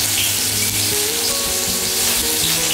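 Chopped ginger and garlic frying in hot vegetable oil, a loud, steady close-up sizzle with crackling pops running without a break.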